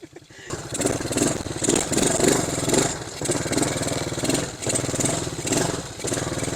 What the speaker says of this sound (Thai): มาดูกันนะครับว่า ATV สามารถยกล้อได้หรือเปล่านะครับ